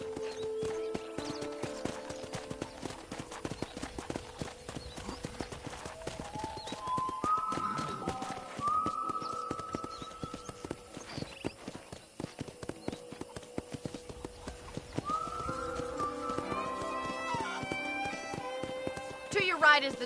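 Clip-clop of trotting horse hooves in the video game Red Dead Redemption runs steadily under music and a speaking voice, with a short whinny partway through.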